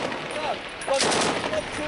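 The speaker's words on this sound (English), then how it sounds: "can guarantee small arms fire incoming" Incoming small arms fire in Afghanistan, a few sharp cracks and bursts of gunfire at mid distance, mixed with shouting voices.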